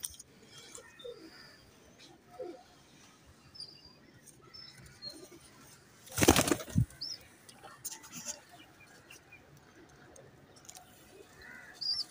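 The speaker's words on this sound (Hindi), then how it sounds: "ये चौधरी साहब के 10 नंबर कबूतर हैं जो इनके उड़ते हैं छत पे, उनका बच्चा है।" A brief, close flurry of pigeons' flapping wings bursts out on a rooftop midway through an otherwise quiet scene, with faint chirps and small rustles around it.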